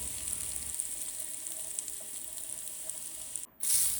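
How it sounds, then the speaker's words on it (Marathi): Hot oil sizzles and crackles steadily close by as mustard seeds, niger seeds, asafoetida, turmeric and fenugreek powder temper, with a brief dip then a louder burst of frying. "टक्कूसाठी फोडणीमध्ये मोहरी, कारळे, हिंग, हळद आणि मेथीची पावडर असं घालून घ्यायचं"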